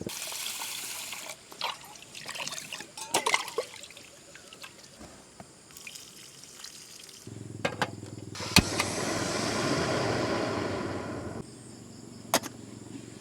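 Water trickling and dripping from a leaking plastic basin at a campsite in Tanay, Rizal, with scattered sharp drips over a faint steady trickle that grows fuller midway, close and fairly quiet.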